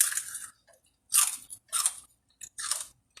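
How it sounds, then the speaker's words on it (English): Crispy pork rinds (chicharrones) chewed up close, four loud crackling crunches in bursts separated by short silences, with no talk. "Very crunchy."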